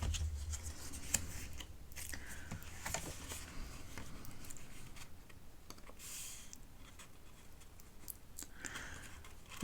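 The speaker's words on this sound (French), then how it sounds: "je vais venir prendre mes ciseaux et je vais venir comme ça découper" Scissors snip through paper while a card is cut out along marked lines, a run of soft, close rustling cuts and small clicks with no voices.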